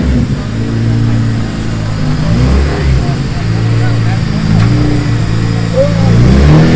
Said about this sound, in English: Got a little startup action on the Integra.